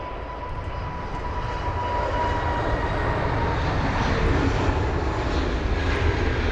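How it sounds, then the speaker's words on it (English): Aer Lingus A320neo jet taxiing at London Heathrow, a steady loud engine roar with a faint whine, continuous and slowly swelling, with no talking. "Now the Aer Lingus jet finally on the move. The A320neo off to Shannon."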